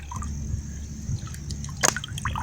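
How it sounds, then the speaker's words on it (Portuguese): Water from the Billings reservoir trickles and drips steadily into a filter at a lakeside campsite, close and continuous, with one brief sharper splash near the end and no talking. "Entrando a água da represa."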